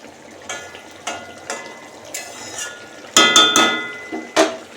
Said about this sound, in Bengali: এবার মাছের ঝালটা নাড়িয়ে নেব